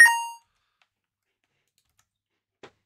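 A bright chiming tone rings out once as the death sound in a Snake game and decays within half a second, leaving silence before a faint click near the end.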